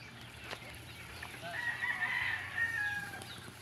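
Chickens cluck faintly in the background while a rooster crows somewhere off at a distance, fairly quiet overall.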